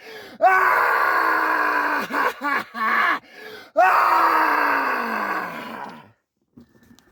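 Several people groan, gasp and scream in a horror audio drama: loud, drawn-out anguished groans rise and fall in close succession, with brief gasps between them, before trailing off into near silence.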